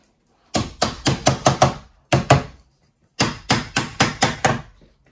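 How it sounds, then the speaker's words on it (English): Barn timber joint tapped with the back of a chisel in three quick groups of sharp, solid knocks, five, then two, then five, loud and close with silence between. "just give me a little tap with the back of the chisel"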